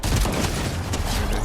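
Shotgun fire in Fortnite Zero Build, a dense, loud burst of gunfire noise filling the whole moment with no talk.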